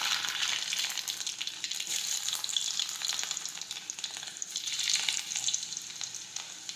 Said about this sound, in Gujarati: હવે આપણું તેલ છે તે ગરમ થઈ ગયું છે. હવે આપણે તેમાં રાઈ અને જીરું નાખીશું